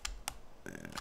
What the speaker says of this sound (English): Typing and talking.